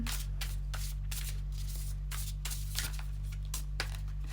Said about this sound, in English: I just want to give these cards a good shuffle